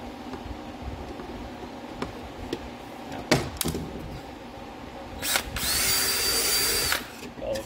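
A power drill whirs in one sustained burst of about two seconds near the end, drilling a screw hole in a homemade Ghostbusters siren housing prop, preceded by a few sharp knocks and clicks of handling.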